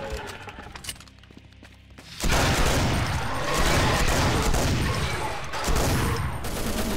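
Dark Matter Rifle from Brutal Doom Project Brutality firing in a dense, sustained barrage that erupts after a quieter opening and stays loud, with heavy crackling blasts and rumble throughout.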